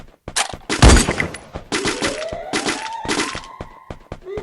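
Gunfire in the mobile battle game Free Fire, with rapid bursts and single sharp shots crackling in quick succession, one heavy close blast standing out, and a rising whine running underneath.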